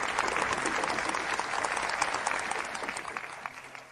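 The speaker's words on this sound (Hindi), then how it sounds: "चलो हम गर्मजोशी से तालियों से चौंशी यू का मंच पर स्वागत कर उद्घाटन की घोषणा कर" Warm audience applause at a dinner event as someone is welcomed onto a stage: dense, steady clapping that thins and fades out toward the end.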